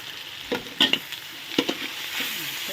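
Pork stir-fried in a pan with sugar, fish sauce and oyster sauce for a pumpkin coconut curry, giving soft sizzling with a few sharp utensil scrapes and clacks at an even, moderate level.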